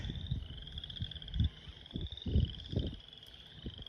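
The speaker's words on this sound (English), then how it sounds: "Frogs singing." Frogs sing outdoors near a glacier, a steady chorus of soft low croaks pulsing irregularly over a faint high insect-like trill, distant and quiet with no voices.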